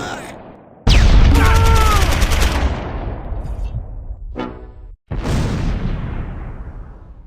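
Gunfire from a recon team firing out of a tower in the Close Combat 4 war game, loud crackling bursts and booms with a brief gap near the end, under a voice talking.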